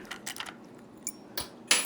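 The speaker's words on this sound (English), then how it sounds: "Remove the keys," Metal keys jangle and clink in short bursts as they are pulled from a mortise lock cylinder at a locksmith's bench, close and fairly quiet, ending in a brighter rattle.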